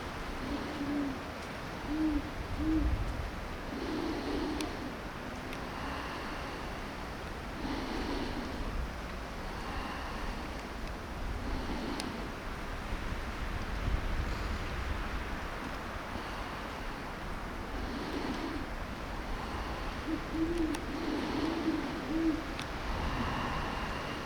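A female great horned owl gives a warning call of soft, low hoots in short clusters spread across a windy night, with a steady rushing background like wind or surf.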